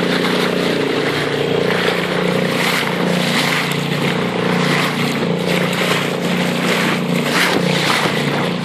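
A 5 hp Sea-Pro outboard motor drones steadily at close range on the Black Sea, with water rushing and splashing against the hull throughout, and no one speaking.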